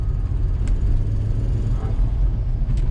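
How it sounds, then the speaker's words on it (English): A Volvo S60R engine with an exhaust leak idling close by, a steady low rumble with a faint ticking, breathy edge running evenly throughout. "it does sound a little bit like exhaust leak somewhere"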